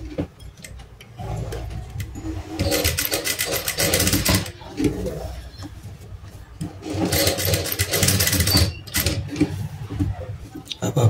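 A sewing machine stitches blouse fabric in bursts of rapid, buzzing mechanical chatter, two long runs separated by quieter pauses and handling noises, close and fairly loud.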